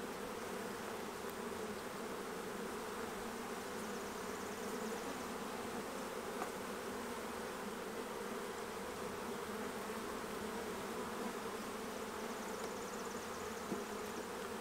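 Honey bees buzz in a dense, continuous drone around hive frames while small nucleus hives are made up for virgin queens, steady and close throughout with no talking.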